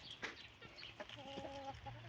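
Chickens cluck softly inside a coop housing 27 hens and 3 roosters, with scattered faint clucks and calls at a distance and low background noise.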